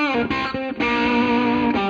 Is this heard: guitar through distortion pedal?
yes